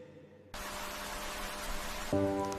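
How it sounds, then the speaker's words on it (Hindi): Monsoon rain in Meghalaya falls steadily on trees, leaves and paths, a dense continuous hiss that swells after a quieter start, with a faint tonal hum underneath near the end. "मेघालय में बारिश अचानक नहीं आती। ये धीरे धीरे चारों तरफ फैल जाती है। पेड़ों पर, पत्तों पर और रास्तों पर।"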